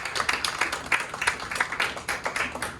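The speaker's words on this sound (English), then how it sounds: "Big round of applause for all of you for being here so far tonight." Applause from a small open mic crowd at a Chico deli, dense and steady with many hands clapping at once, close and fairly loud for about three seconds with no voices over it.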